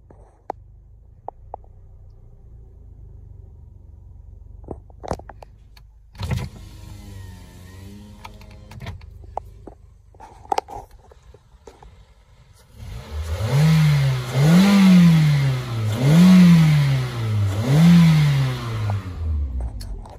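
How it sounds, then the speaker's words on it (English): A 2006 Toyota Corolla S with 47,000 miles, first some quiet clicks and handling noises, then the engine starts and revs repeatedly in loud rising and falling pulls, close by. "We're going to start it up and go for a quick drive."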